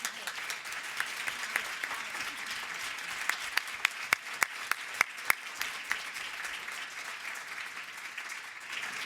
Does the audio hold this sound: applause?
yes